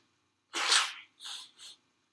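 Three sharp nasal sniffs up close into one nostril, one long and two shorter, with silence around them.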